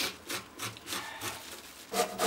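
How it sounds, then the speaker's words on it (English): Skinned zucchini is grated by hand for Turkish-style zucchini pancakes, close rhythmic rasping strokes repeating about every third of a second, each a short scratchy swish. "now we're grating the zucchini that's been skinned"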